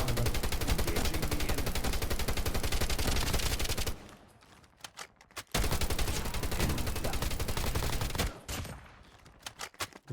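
Rapid bursts of Call of Duty Mobile gunfire, long sustained automatic volleys with a brief pause and sporadic single shots in between.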